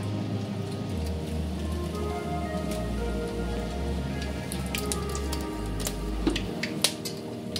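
Whole cardamom, clove, cinnamon, mace and bay leaf sizzle steadily in hot oil for biryani, a dense, even crackle with scattered sharper pops toward the end and no voices.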